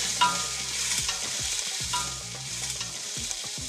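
Prawns fry in a hot pan with curry leaves, onions and garlic for a Sri Lankan curry, giving a constant loud sizzle broken by repeated stirring scrapes, with no voices.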